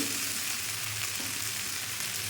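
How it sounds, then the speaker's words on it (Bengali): Potato pieces sizzle and fry steadily in a pan while being stirred, a continuous soft hiss with faint scraping throughout. "ঢাকনা খুলে আলুটা আবার নেড়ে দিলাম 3 মিনিট পর যাতে না পুড়ে যায়"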